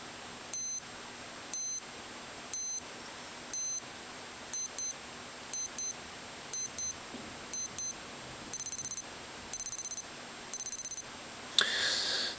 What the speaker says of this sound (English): This is what the alarms sound like.